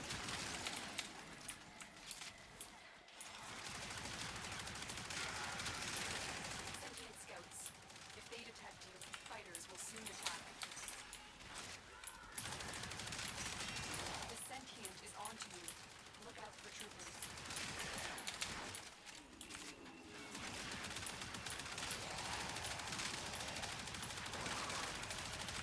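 Rapid automatic gunfire from the Athodai weapon's primary fire in the video game Warframe, dense continuous bursts broken by brief pauses, loud and close.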